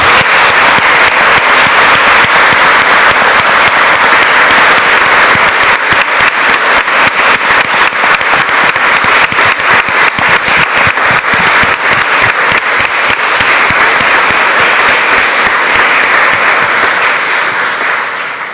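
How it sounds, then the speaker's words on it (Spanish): Large audience applauding at a lawyers' swearing-in ceremony before the Supreme Court, sustained dense clapping for about eighteen seconds before tapering off at the end. "Aplaudamos este logro."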